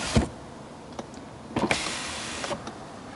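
Car door power window motor raising the glass, with a few scattered clicks and brief whirring bursts up close in a quiet space; nobody talks.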